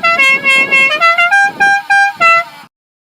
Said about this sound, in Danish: Hornet skal have en klar og tydelig tone og må ikke spille melodier.